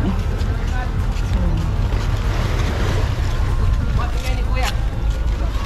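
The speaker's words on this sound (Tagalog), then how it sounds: "ito yung bangka namin" Steady roar of a small boat moving over the sea off Guimaras in the Philippines, with wind buffeting the microphone and water rushing past throughout.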